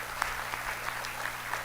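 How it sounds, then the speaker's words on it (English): Audience clapping at the Pwani Innovation Week 2022 launch, a fairly quiet, scattered patter of hands with a few distinct claps standing out. "let's clap."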